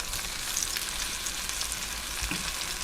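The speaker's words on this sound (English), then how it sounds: "I'm gonna flip these, give them a nice sear on the other side" Starchy slices searing in a hot pan after being flipped, a dense, continuous sizzle at steady loudness with faint crackles and pops throughout.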